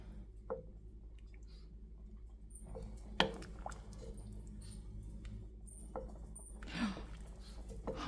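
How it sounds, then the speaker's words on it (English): A spoon stirs soup in a pot on the stove, giving soft, faint liquid squishes and a couple of scraping knocks against the pot over a quiet kitchen background. "Give that a stir."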